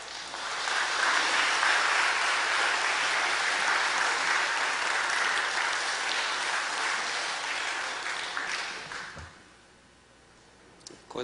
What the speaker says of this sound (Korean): 이제 우리 이번 목사님 나오실 때 우리 큰 박수로 맞이했으면 좋겠습니다.